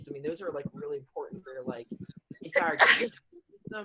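A single loud sneeze bursts out near the end of a stretch of close conversational speech, standing clearly above the talking voice.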